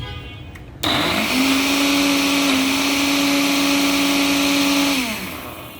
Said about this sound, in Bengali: এটা দেওয়ার পর এরকম একটু ঝাঁকি দিয়ে তারপরে ব্লেন্ডার দিয়ে